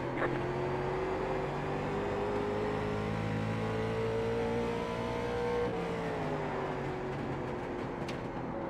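Late-model stock car engine in the iRacing sim at New Smyrna, holding a steady loud drone with harmonic pitch sweeping slightly as it runs through a lap, continuous and close throughout.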